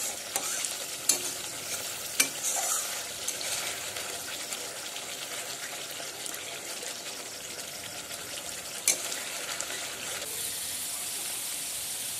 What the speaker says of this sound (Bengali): এর মধ্যে এখন ভাজা আলুগুলো দিয়ে সমস্ত মশলার সাথে ভালোভাবে আলুগুলো কষিয়ে নেব।